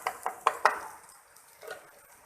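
Spinach stirred in a pan with a spoon, a few quick scraping knocks close by early on, then fading to quieter shuffling, with no talk.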